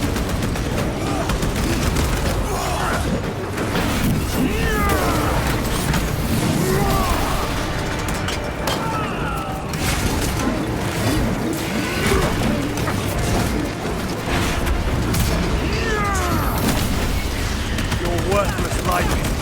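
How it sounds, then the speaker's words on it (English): A frag grenade blast and surrounding combat in Warhammer 40,000: Space Marine 2, with loud, continuous explosions, gunfire and clashing effects filling the whole stretch, with voices shouting over the chaos. "Frag grenade deployed."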